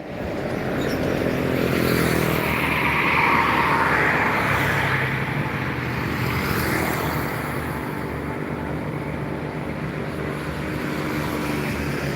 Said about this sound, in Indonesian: Melintas lagi truk-truk